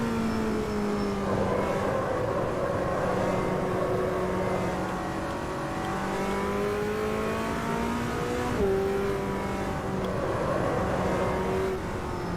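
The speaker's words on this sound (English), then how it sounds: "you can watch the cars going around, you know, the drivers on track whilst you're waiting" Race cars in the Automobilista sim racing game lap a track as engines drone steadily and continuously, pitch rising and falling with gear changes and cars passing, with no talk over the sound.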